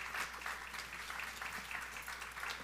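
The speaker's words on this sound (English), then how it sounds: "A round of applause for our panel members," An audience applauds a panel at a commemorative event, a steady wash of clapping from many hands lasting a few seconds, fairly faint and heard without talk.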